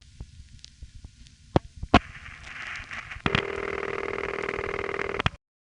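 A Bushwick crossbar tandem telephone switch receiving pulse conversion input and outpulsing multifrequency signals: faint line noise, a few sharp relay clicks, then a steady buzzing tone with a fast regular pulsing texture before it cuts off.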